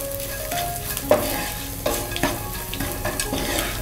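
Kashmiri red chili powder being stirred into hot oil in a frying pan while making idli chaat, a steady close sizzle with a few sharper scraping stirs over nearly four seconds, no talking.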